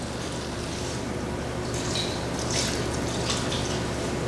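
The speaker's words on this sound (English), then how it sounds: "I'm gonna put some broth on top of it to kind of soften this bread a little bit." Broth pours steadily onto cornbread stuffing in a pan, a constant liquid trickle with faint splashing over a steady background hum, no talk.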